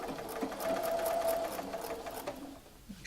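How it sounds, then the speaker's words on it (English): Sewing machine stitching binding onto a quilt along a pen line, a fast, continuous whirring run of stitches that slows and stops near the end, fairly quiet and close. "I am going to be sewing absolutely on this pen line"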